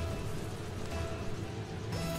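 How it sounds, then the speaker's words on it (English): Steady heavy rain pours down on a stadium in the car-football video game Rocket League, a dense even hiss that holds without break for a couple of seconds, with no voices over it. "The rain's hammering down at the stadium."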